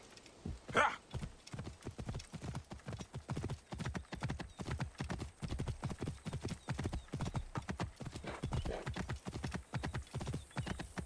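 Steady, rhythmic horse hooves clip-clop at a brisk trot in Assassin's Creed Origins, with an occasional snort or whinny mixed in against light background ambience.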